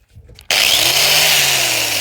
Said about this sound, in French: cette meuleuse, quand t'appuies, là, comme ça,